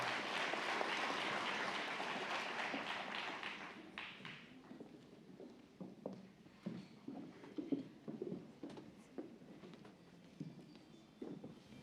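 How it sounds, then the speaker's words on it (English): Dense audience applause for nursing graduates at a spring convocation fills the first four seconds, then thins into scattered taps and footsteps, all fairly quiet. "Let's give them applause as they get ready to come to the platform"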